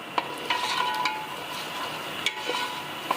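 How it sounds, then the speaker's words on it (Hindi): Red chilli and other spices for beef korma fry in a large pot, with a continuous loud close sizzle and occasional scraping stirs of a spoon. "मसालों को भी तकरीबन 2 मिनट के लिए भून लेंगे।"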